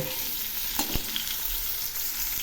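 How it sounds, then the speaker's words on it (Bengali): Cauliflower pieces frying in hot oil, a close, steady crackling sizzle with a couple of brief sharp pops and no voices. "এখন আমি ওই তেলে কপিগুলো ভেজে নিচ্ছি।"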